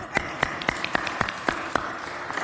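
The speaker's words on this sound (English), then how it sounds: "Give Bilbo a round of applause." Scattered handclaps from a small audience at a city council meeting, applauding a hearing service dog named Bilbo; sharp, separate claps in an uneven rhythm, fairly quiet and without voices.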